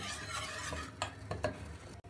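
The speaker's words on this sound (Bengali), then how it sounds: "তো এটাকে আমি এখন ভালো করে চিনিটাকে গলিয়ে নিচ্ছি" Sugar melting in a pan for homemade chocolate is stirred in a few soft scraping strokes over a faint sizzle, quiet and close.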